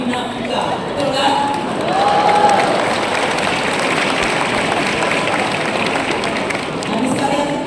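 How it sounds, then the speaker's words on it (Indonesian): Audience applauding in a large hall, a broad sustained wash of clapping from a crowd, with faint voices mixed in beneath it. "Habis kalian tepuk tangan"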